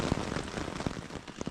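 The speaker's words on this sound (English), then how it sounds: "But it's still raining on us" Rain falls steadily on a stealth campsite under a tree canopy on the Appalachian Trail, a dense patter broken by sharper drops hitting nearby surfaces, with no talking.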